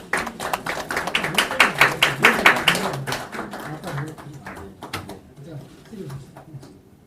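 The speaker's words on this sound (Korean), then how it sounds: "큰 박수 부탁드리겠습니다." At a meeting between a presidential candidate and a Korean medical association, a room applauds: brisk, dense clapping builds for about three seconds, then thins to scattered claps and taps as it dies away.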